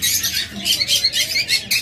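In a bird shop, lovebirds and cockatiels give a steady run of harsh, close squawks, several shrill bursts close together with no talking.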